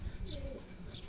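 A racing pigeon hen cooing at the loft, soft low coos alongside brief chirps against steady background noise, with faint talk nearby.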